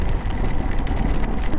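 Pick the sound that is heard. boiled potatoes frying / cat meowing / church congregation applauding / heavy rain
heavy rain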